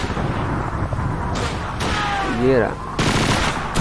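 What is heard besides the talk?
gunfire in the video game Call of Duty 2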